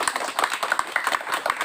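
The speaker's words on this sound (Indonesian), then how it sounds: "Tepuk tangan dulu dong" An audience at an art exhibition opening in Indonesia claps briskly and fairly close. Dense, uneven hand claps fill the whole short stretch at a steady level.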